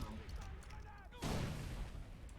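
Video game combat in Far Cry 3 with grenades and gunfire, heard as a muffled burst and rumbling blast in the middle of a noisy, busy mix, with voices faintly underneath.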